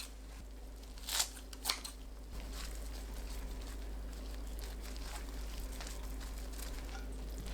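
Two crisp, quick cuts slice through a bunch of tangled sea greens (saebal namul) on a board, then a faint steady hum lingers with nothing else.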